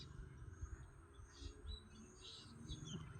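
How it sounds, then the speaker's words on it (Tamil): Sparrows chirp in a tree in a series of short, bright calls, some close and some farther off, rising over a low background hum. "இதில் தான் குருவி பசங்கள்லாம் உட்காண்ட்ருக்காங்க, கிச் கிச் கிச்சுன்னு இந்த மரத்தில்."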